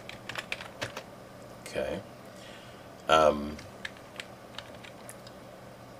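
A computer keyboard is tapped repeatedly to type spaces, with soft, scattered keystrokes and a few louder clacks, plus a brief spoken word.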